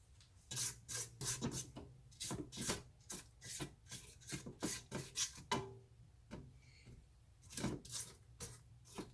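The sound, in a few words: scraping a mixing bowl for pound cake batter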